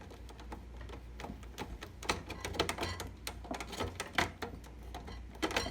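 Screwdriver driving screws while a PC fan is installed in a gaming PC build, heard as faint scattered clicks and ticks in an irregular rhythm, close by, with no voices.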